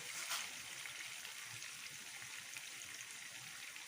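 Water poured into a pan of chicken and green beans for a chicken tikka fry, a steady soft splashing trickle that runs evenly and close throughout.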